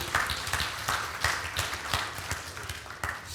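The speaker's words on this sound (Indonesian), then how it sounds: "Saya lihat tepuk tanganmu 3/4." Church congregation clapping together in a steady, rhythmic pattern, sharp claps at an even beat of roughly two or three per second, moderately loud and filling the room.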